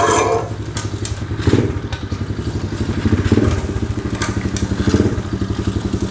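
A 2024 SK 110 Pro mini trail motorcycle with a 110 cc engine runs close by, its single-cylinder thump steady and loud with rhythmic pulsing and a few light clattering rises.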